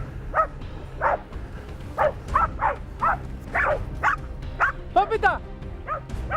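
Dogs bark and yip in a quick series of sharp, close calls, roughly a dozen bursts spaced unevenly, with a person speaking briefly among them.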